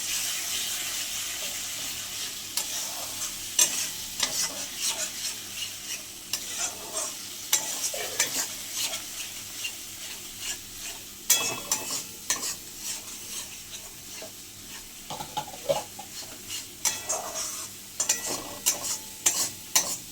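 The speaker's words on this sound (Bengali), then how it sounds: "মশলাতে একটু জল দিয়ে দিয়ে কষলে তাহলে" Spice paste of cumin, coriander and chili powder cooks in a pan with splashes of water for a chicken curry, a close hissing sizzle under frequent scraping stirs and sharp spoon knocks against the pan.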